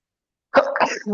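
A single short, sharp sneeze bursts out close to the microphone after a moment of silence, indoors during a casual podcast chat.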